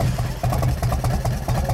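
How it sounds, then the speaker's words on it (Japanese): A 1994 Harley-Davidson Dyna with a 1340cc engine idles up close, giving a loud, steady, lumpy low rumble with a rhythmic pulsing beat. "エンジンを聞かせてもらえますか。"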